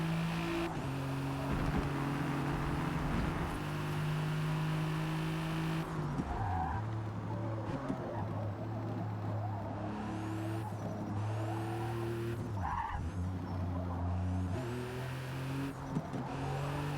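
A race car in a multiplayer racing video game slides and skids around the track, its engine droning steadily with tire squeal and scrapes throughout, loud and continuous with no voices.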